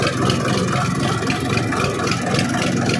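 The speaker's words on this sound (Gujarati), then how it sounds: "ટ્રેક્ટર જે છે એ ચાલી રહ્યું" A tractor engine at salt pans in Saurashtra, Gujarat, drones steadily and loudly up close, a continuous rumbling chug with no break and no voices.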